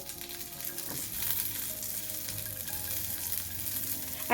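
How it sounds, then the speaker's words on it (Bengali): A handful of cashews and raisins frying lightly in hot ghee for a Ganesh Chaturthi sweet, a steady close sizzle with faint stirring clinks, no talk. "এবার এর মধ্যে দিয়ে দিচ্ছি আমি এক মুঠো মতো কাজু কিশমিশ কাজু কিশমিশটা একদম হালকা করে ভেজে তুলে নেবো"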